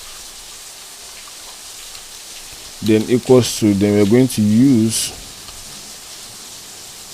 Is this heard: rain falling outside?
yes